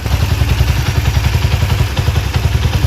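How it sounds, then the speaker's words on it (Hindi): A Honda CD70 motorcycle engine idles on its own with no throttle applied, a loud, steady, rapid low thumping with a clattery knock like a connecting-rod noise running evenly throughout. "ये बाइक का साउंड है।"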